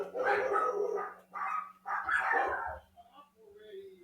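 Several sharp dog barks in quick bursts, moderately close, with a pause before a softer final yelp; a steady low hum runs underneath.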